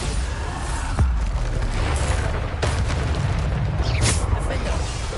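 Hogwarts Legacy gameplay where the Bombarda spell is cast, producing loud booming blasts amid a dense rumbling wash of combat effects, with a sharp hit near the start and whooshing bursts later.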